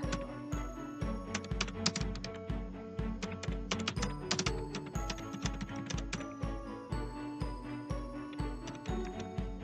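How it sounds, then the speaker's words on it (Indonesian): Rapid, irregular clicking of a computer keyboard as code is typed into Turbo Pascal, keystrokes dense and close, with small clusters and pauses. "Kita ketik lagi untuk menambah variasinya"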